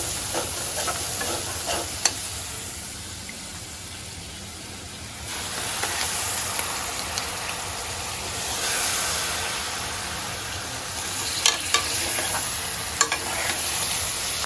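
Shrimp and onions frying in a wok, a continuous loud sizzle and hiss with scraping stirs and occasional sharp clinks of the spatula against the pan, no talking.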